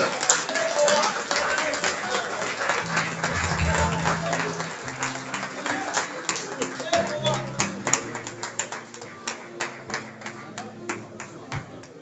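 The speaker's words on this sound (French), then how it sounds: "Sous vos applaudissements," Audience applause at an award ceremony in the DRC, a crowd clapping steadily and loudly, then thinning to scattered claps, with a voice speaking over it near the middle.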